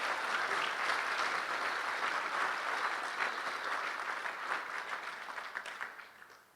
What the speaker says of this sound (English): Yes, give him a round of applause for that.